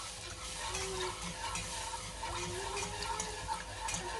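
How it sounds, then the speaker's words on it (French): Milk is stirred a little at a time into melted butter and flour in a pan while making a gratin sauce, a steady close wet scraping and bubbling with no talking. "on va verser le lait au fur et à mesure et en même temps, voilà. Il faut bien tourner"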